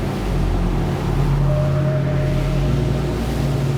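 KOSHI 51 motor boat with a two-step hull running at speed, a steady low engine drone under rushing water and wind noise, loud and continuous with no talk.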